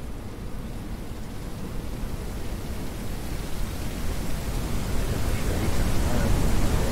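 A heavy rainstorm pours down in a steady, loud broadband hiss that slowly builds in intensity, with no distinct individual drops standing out.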